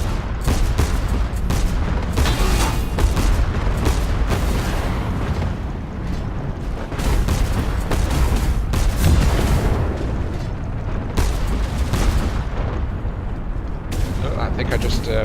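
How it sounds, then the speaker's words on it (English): Cannon shots pound a flying ship in the airship combat game Cloud Pirates, a continuous barrage of heavy booms and rumbling blasts, loud and dense, with a voice talking over the battle. "I'm taking cannon shots"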